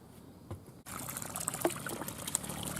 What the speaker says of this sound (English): I've got the pump going there. It's coming up, water's coming up, feeding through there.